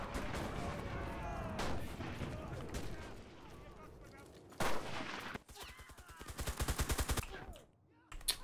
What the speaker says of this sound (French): Bon, bah, frappe d'artillerie, voilà.